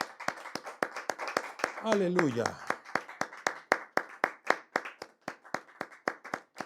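Church congregation clapping hands in unison as an offering of praise, a steady rhythmic series of sharp claps that runs the whole way, with a brief spoken exclamation over them near the start.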